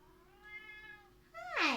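A cat gives a thin, drawn-out meow followed by a louder, rising second meow close to the microphone in a quiet room.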